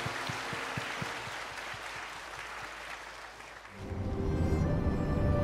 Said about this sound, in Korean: 다시 한번 크게 박수해 주시기 바랍니다.